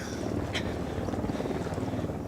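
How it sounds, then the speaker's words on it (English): A helicopter approaches in the video game Ghost Recon Wildlands, its rotor making a steady low chopping pulse that stays close and fairly loud, with no talk. "There is a helicopter coming up on the map here"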